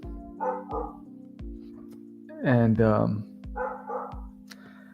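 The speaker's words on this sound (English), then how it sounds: "my dog's out there barking" A dog barks outside in a string of sharp, spaced barks with one louder, longer yelping burst in the middle, while a person talks over them nearby.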